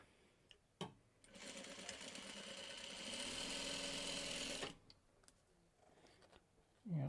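A sewing machine stitches a small scrap of fabric in one sustained, fast run of mechanical whirring and rapid needle clatter lasting several seconds, framed by brief clicks and handling noises, with a quiet voice at the end.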